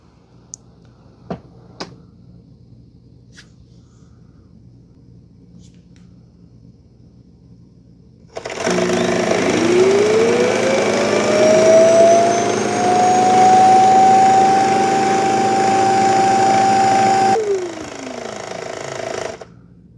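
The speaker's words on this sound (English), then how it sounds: "everything that the dustbin picked up is going to get sucked out into a chamber that we can empty out about once every month and a half or so" A Shark Matrix Plus robot vacuum's self-empty base powers up after a few faint clicks and roars loudly, sucking debris out of the robot's dustbin, its motor rising in pitch to a steady whine before abruptly cutting off and winding down.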